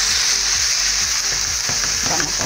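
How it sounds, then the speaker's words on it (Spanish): Ground beef loin frying in a pan for Christmas turkey stuffing, a loud, dense, steady sizzle and crackle with faint scraping as it is stirred, close up and without speech. "Entonces hemos agregado la carne molida. Igualmente vamos a esperar que también se fría."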